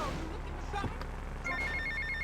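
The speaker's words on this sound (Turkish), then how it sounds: "Telefon çalıyor." In the video game GTA Vice City, a telephone rings in a repeated electronic trill over game sounds and background noise, growing clearer toward the end.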